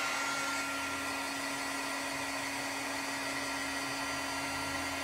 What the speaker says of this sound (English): So I'm heating up my heat tool again.